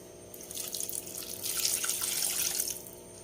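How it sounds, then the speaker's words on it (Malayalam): A glass of water pours onto four pieces of jaggery in a pan, giving a continuous close splashing gush. The sound swells in the middle and fades out after about three seconds. "അതിലേക്ക് ഒരു ഗ്ലാസ് വെള്ളവും കൂടെ ഒഴിച്ചിട്ട് നമുക്ക് ഉരുക്കാൻ വെക്കാം"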